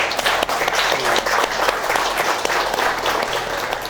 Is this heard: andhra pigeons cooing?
no